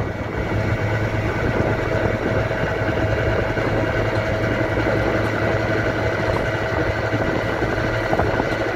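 Peugeot Vivacity scooter engine held at steady throttle during break-in, a continuous loud drone with a low hum that barely changes, close up and with no voices.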